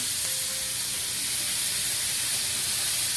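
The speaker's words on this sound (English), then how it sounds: "I'm going to add a little bit of wine" Wine poured into a hot pan of tomatoes and seared bits for arroz con pollo, giving a steady, close, loud sizzle and hiss that holds evenly throughout with no talking.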